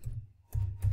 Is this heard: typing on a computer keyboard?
yes